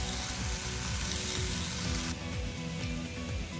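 Mushroom fries in a pan for a chickpea veggie burger, giving a steady, close sizzle with occasional scraping stirs, no voices.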